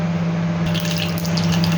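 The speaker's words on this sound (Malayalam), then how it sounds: "കടുക് പൊട്ടി." Mustard seeds crackle and pop in hot coconut oil in a pan, sparse sharp little bursts over a steady stove hum, with no talk.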